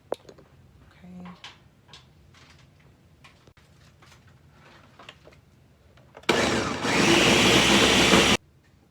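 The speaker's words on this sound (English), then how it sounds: "so I'm gonna go ahead and blend this up." A kitchen blender whirs loudly for about two seconds, puréeing meat juice with chilies for keto birria, starting abruptly after quieter clinks and handling sounds and stopping sharply.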